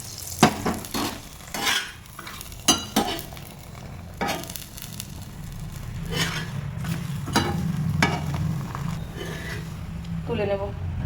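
Aloo paratha frying in refined oil on a hot tawa, a soft steady sizzle under scattered clinks and scrapes of a spatula, with someone talking over it.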